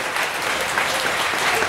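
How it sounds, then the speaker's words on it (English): A crowd applauds at a colt-starting horse training session, a steady, dense patter of many hands sustained throughout at moderate volume. "Got one more round of applause, ladies and gentlemen."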